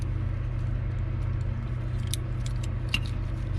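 A wiring connector snaps into place during an FC Mazda RX-7 chassis swap: one or two small, sharp clicks close by over a steady low rumbling hum.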